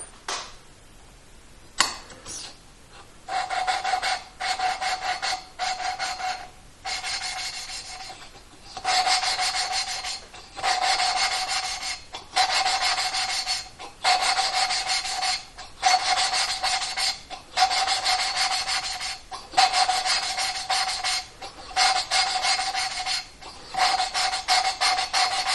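An engine cylinder head valve is lapped against its seat in repeated rhythmic gritty rubbing strokes. The strokes come in short bursts separated by brief pauses and sound close and moderately loud.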